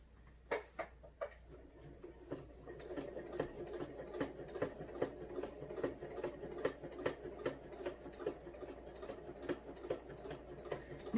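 A home sewing machine stitches in the ditch on a quilt pinwheel, running with a steady fast mechanical ticking and whir for about ten seconds after a few single clicks; near and fairly quiet.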